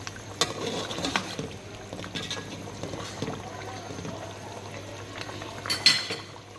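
Chopped chillies being stirred into a pot of tahari, with soft scraping of a spoon against metal and a gentle bubbling sizzle, faint and close, with occasional clinks.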